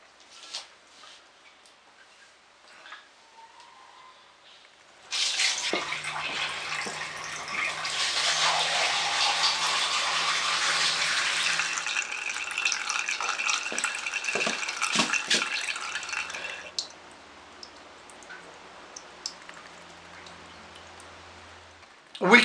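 Water is poured into a Millbank bag filter, giving a sustained splashing trickle that begins abruptly after a quiet start, runs steadily for about ten seconds, then tapers to lighter drips.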